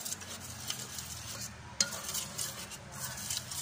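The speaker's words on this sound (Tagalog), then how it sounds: "Halo-haluin lang natin siya." Cassava flour mixture being stirred until it dissolves, a steady scraping swirl in a bowl or pan with a single sharper clink partway through, close and alone without talk.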